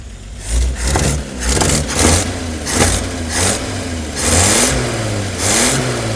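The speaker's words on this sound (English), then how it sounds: "So I shut the choke off, and now it runs even better. We've got a really good exhaust leak." An old engine with an exhaust leak runs rough and loud nearby with the choke off, revving up and down in uneven surges with a raspy, puffing exhaust sputter.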